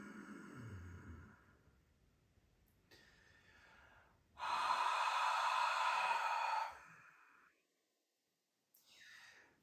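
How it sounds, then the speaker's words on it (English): A yogic ujjayi exhale, heard up close and loud: it opens as a soft open-mouthed breath and then narrows into a steady, constricted, ocean-like hiss through a closed mouth, with further breaths before and after and a brief pause of silence. "we start the exhale with the mouth open. And then we're going to slowly close the mouth for the second half of the exhale"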